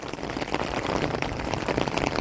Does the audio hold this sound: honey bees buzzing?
no